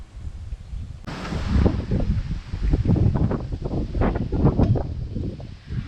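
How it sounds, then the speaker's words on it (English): Strong wind buffets an outdoor microphone during a Chevrolet Silverado LED light install, a loud continuous roar and rumble that starts abruptly after a second of quiet and gusts unevenly throughout. "Man, this wind is terrible."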